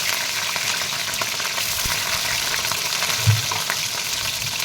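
Nigella seeds fry in hot oil with a loud, constant sizzling hiss, a faint crackle and one low knock near the end. Nobody talks.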